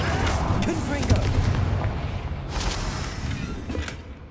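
Confringo blasting spell in Hogwarts Legacy going off in a burst of rapid explosive booms and crackling impacts, loud and close, with a second blast later, game sounds dense throughout.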